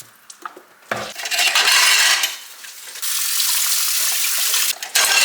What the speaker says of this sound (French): je vais faire la vaisselle moi